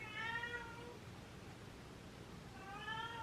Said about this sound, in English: My cat is going insane.